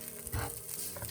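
Crumbled vegan food sautéing in a pan, a short burst of soft sizzling with stirring scrapes, close and moderately loud, with no one speaking.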